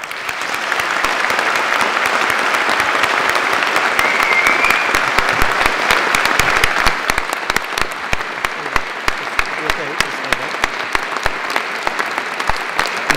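A large hall at a university graduation ceremony at Birmingham City University fills with sustained applause for an honorary doctorate, loud and even at first, then thinning into sharper, more distinct claps toward the end.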